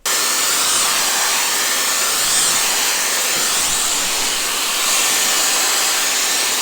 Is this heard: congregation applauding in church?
no